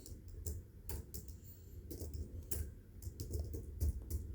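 Quiet keystrokes on a computer keyboard during HTML coding, arriving in short irregular bursts of soft clicks close to the mic over a low background hum.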